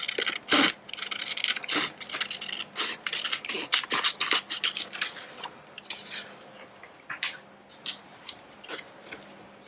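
Scissors cutting an index-card-shaped pocket from paper for a patchwork journal: a series of close, crisp snips and rustling paper scrapes in an irregular rhythm, fairly quiet, with no speech.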